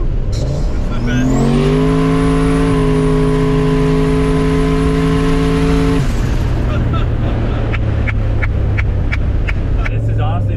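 A turbocharged Mercury Marauder sleeper car revs loud and close, its engine note climbing and holding steady for several seconds before dropping back to a rumbling idle, with people talking over it.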